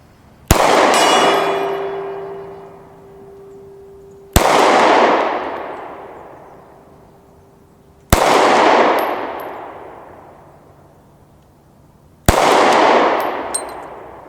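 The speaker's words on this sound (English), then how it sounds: "I'm gonna try over on the hill a little bit, so I can hit the gong with it" Four Sig P365 pistol shots spaced a few seconds apart, each a sharp loud crack followed by a long decaying echo across a hillside; the first has a faint metallic ring from a steel gong target.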